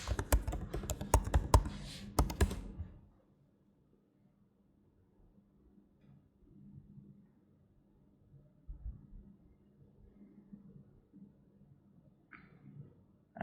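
Quick, soft keystrokes on a computer keyboard as a password is typed, a short close burst of tapping followed by a quiet room with faint scattered clicks.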